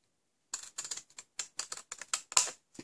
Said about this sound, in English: So this is where your big scissors come in handy.